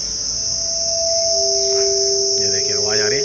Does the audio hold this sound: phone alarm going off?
no